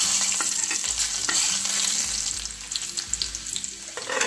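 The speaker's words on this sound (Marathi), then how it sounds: "मोहरीला छान असं तडतडू द्यायचं आहे आपल्याला." Finely chopped garlic cloves and mustard seeds fry in hot oil for ulta vada pav masala, a steady close sizzle with scattered crackles and occasional spoon stirring, and no voices.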